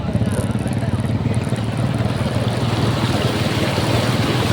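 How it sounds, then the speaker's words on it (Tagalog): Honda XRM 125 motorcycle ploughing through thigh-deep flood water on a city boulevard, a steady engine drone under a constant rushing, splashing wash of water, loud and close throughout. "Tinawid ko na ito sa baha na hanggang hita at tubig."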